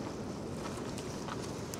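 Strong wind at a beach campsite blowing steadily against the microphone as a dense, continuous roar with no talking.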